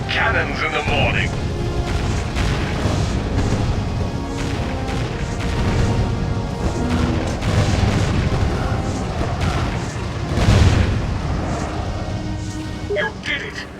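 Repeated heavy cannon shots and explosions in the Defense Grid tower-defense game rumble through dense game effects and music, with spoken voice lines over the barrage.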